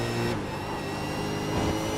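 A V8 Supercar racing on a New Zealand circuit, its engine roaring loudly, then dropping briefly in pitch as it shifts up before climbing again, with no talk.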